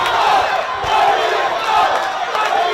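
Schools rugby league crowd at Havelock Park roaring in a steady, dense wash of cheering and shouting, loud and continuous with swells throughout, no clear single voices standing out.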